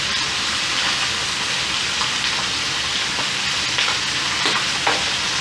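Chicken thighs seasoned with garlic powder, onion powder and paprika fry in a pan, giving a steady, close, broadband sizzle with small pops and crackles throughout, no talking.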